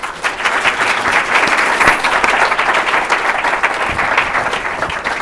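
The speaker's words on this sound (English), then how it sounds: "Let's give them a round of applause." An event audience applauds at the close of a panel on building evidence and learning agendas in federal agencies, giving steady, dense clapping that holds at an even level throughout.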